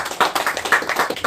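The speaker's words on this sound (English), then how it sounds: "And hand claps" A few sharp hand claps in a loose, uneven rhythm, close and fairly loud, with no talking.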